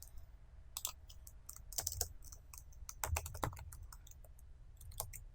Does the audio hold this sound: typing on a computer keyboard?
yes